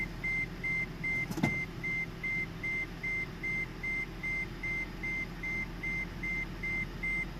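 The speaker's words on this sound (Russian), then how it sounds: "И перестанет пикать?" Regular high-pitched electronic warning beeps from a Toyota Prius 30 with a brake fault repeat steadily throughout over a low idling engine rumble, with one brief click near the start.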